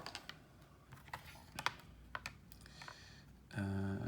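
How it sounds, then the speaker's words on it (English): Numbers being typed on a calculator: a quiet run of light, irregular button taps, close by, followed by a steady electronic hum in the final half second, with no one talking. "type that in my calculator"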